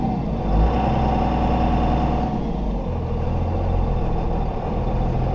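A Chevrolet Silverado 2500HD with a swapped-in Cummins diesel drones steadily while being driven, a continuous low engine rumble that shifts slightly in tone partway through.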